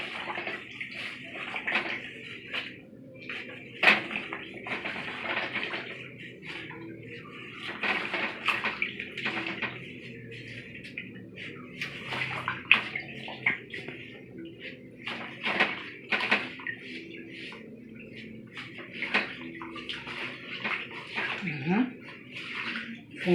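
Tap water runs and splashes in bursts while beef is washed by hand in a bowl, with clattering and sloshing throughout and a person talking intermittently over it.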